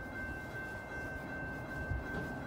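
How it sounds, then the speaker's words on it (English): Inbound Metra commuter train to Chicago arriving at Riverside, Illinois station, a steady rumbling approach with a thin high whine over it and a low thump near the end. "The next inbound Metra train to Chicago is now arriving in your station."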